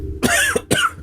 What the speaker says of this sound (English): Got a bit of a cough at the moment.